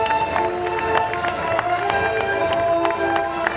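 Crowd applause at an Argentine independence bicentennial parade in Palpalá, 2016, a dense steady clapping from many hands with scattered sharp claps and cheering throughout.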